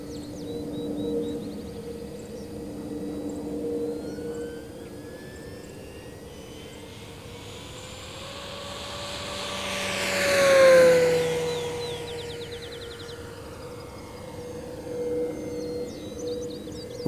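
An E-flite T-28 park flyer RC airplane flies slowly overhead with its electric motor whining and shifting pitch, growing louder as it passes close and then fading away, with no talking.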